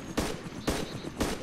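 Three evenly spaced gunshots ring out in DayZ, each a short sharp burst about half a second apart, at moderate distance, with no talk.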